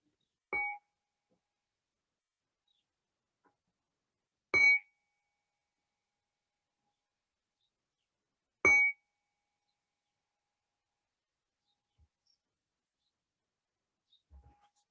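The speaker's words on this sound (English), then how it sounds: "when you hear the sounds of the bell, you can begin to make whatever movements you would like to make" A meditation bell used in a yoga session strikes three times, about four seconds apart, each clear metallic tone ringing out and fading in an otherwise quiet room.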